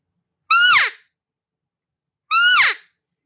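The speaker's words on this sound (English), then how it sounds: "a lost mew" Two drawn-out elk lost mews on an open reed cow call, each a high, nasal cry falling in pitch. They are spaced about two seconds apart and sound close and clear, with silence around them.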